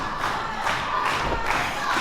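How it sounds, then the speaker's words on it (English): Wrestling crowd at a live Summer Sizzler event rallying behind Richie Adams, a steady wash of cheering and noise with a few louder swells, no clear speech. "Crowd here absolutely in support of Richie Adams."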